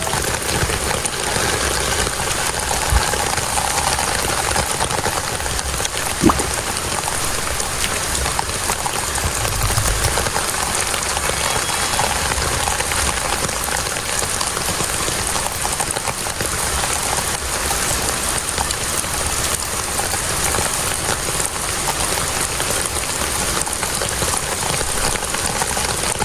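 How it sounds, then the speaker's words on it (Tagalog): Heavy monsoon rain pours in a steady, dense hiss that fills the whole clip, a continuous close downpour with no pauses and no voices. "Grabe, lakas ng ulan."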